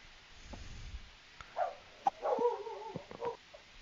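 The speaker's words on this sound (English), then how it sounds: "The dogs are losing their minds because they hear someone." Dogs bark because they hear someone, a few faint, irregular barks and yips from some distance in an otherwise quiet room.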